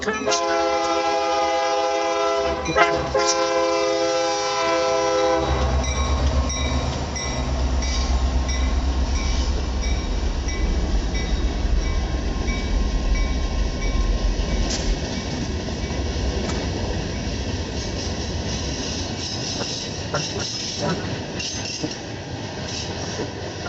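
A train passes at a railway festival in Rochelle, Illinois. A loud, multi-tone horn blasts several times, then a long, steady rumble of rail cars and wheels follows close by.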